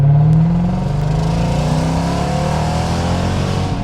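Dodge Durango Hellcat SUV engine revving hard and accelerating, a loud, close, continuous roar with rising pitch and no talk over it.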